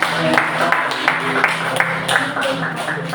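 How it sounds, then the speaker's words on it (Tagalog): A standing church congregation gives a strong round of applause, many hands clapping steadily at moderate distance with some voices murmuring underneath. "Kaya tayong lahat ay tumayo at ating bigyan na malakas na palakpak ng Panginoon"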